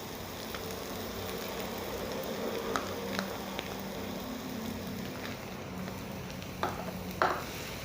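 Ground green peas with onion are stirred in a frying pan, giving a soft, steady sizzle with occasional faint scrapes and clinks of a utensil against the pan.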